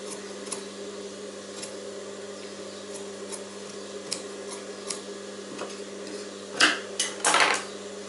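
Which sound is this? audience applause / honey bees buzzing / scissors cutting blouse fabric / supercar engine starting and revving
scissors cutting blouse fabric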